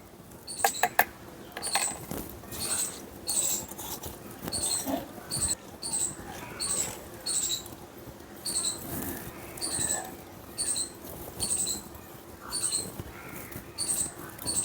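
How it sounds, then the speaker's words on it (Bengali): Soaked mustard seeds and poppy seeds ground by hand on a grinding stone, a steady rhythmic scraping and rubbing with regular strokes about once a second, close and moderately quiet, with faint high squeaks. "এখন সর্ষে পাবদার সর্ষেটা বেটে নিচ্ছি।"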